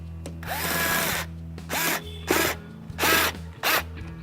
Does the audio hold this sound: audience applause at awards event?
no